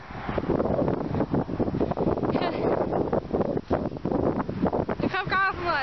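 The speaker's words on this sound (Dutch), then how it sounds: "Ik hoor de wind als ik er even naar kijk." Wind gusting across the microphone outdoors during a run, rough buffeting bursts that rise and fall irregularly, loud and close, with a brief whistling tone near the end.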